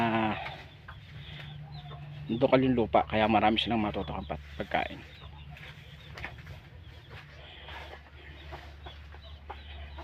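Chickens on a small farm cluck softly and intermittently in the background while someone talks over them outdoors.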